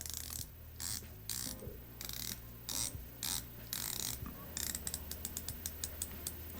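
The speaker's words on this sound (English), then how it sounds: "Then you have a polished bezel, and let's listen to that." Polished bezel on an HVD Spectre Diver, a Swiss-made hand-wound 40mm vintage-style diver's watch, turned in a run of crisp ratcheting clicks, irregular at first and then quick and evenly spaced, close up and quiet with no talking.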